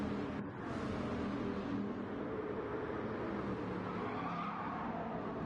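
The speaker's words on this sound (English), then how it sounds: "You hear all the wheels screeching." Tires screeching in a racing video game, a dense sustained roar of engine and squealing rubber that stays loud and steady throughout with no talk.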